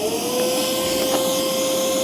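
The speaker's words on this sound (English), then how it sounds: "Ah yes, so the vacuum is pulling about 1100 watts." A vacuum cleaner running on solar power, drawing about 1100 watts, produces a steady loud motor whine with a constant tonal hum throughout.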